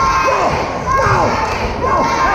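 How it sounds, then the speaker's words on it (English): Crowd at a PPW pro wrestling show rallying behind wrestler Lumberjack Larry, injured knee and all, with a steady roar of shouting and cheers, and a few thuds and arena clatter under the noise throughout. "This crowd rallying behind Larry."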